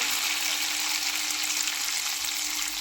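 Ghevar batter for a Rajasthani sweet fries in a pan of hot oil, giving a loud, steady, dense sizzle and bubbling hiss that holds without a break.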